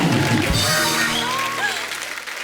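Audience applause on the Kapil Sharma comedy show, a burst of clapping and cheering that fills the space and slowly fades over a couple of seconds.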